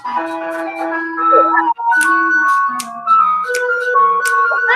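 An ice cream truck parked right outside a house at eight in the evening plays its chiming melody, loud and close, as a continuous tinkling tune with brief breaks between phrases.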